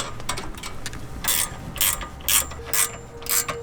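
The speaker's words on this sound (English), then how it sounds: "gonna go ahead and tighten up this nut again" A ratchet wrench tightens the tie rod nut on a Jeep JL Wrangler during a steering toe-in adjustment, giving about five short, loud bursts of metallic clicking spaced roughly half a second apart, with quiet pauses between them.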